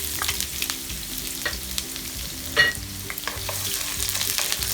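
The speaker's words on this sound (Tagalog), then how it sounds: "saute natin ng onion ng bahagya, ang ating luya" Onion and ginger sautéing in two tablespoons of hot oil in a pan, a steady close sizzle with occasional stirring scrapes and clicks.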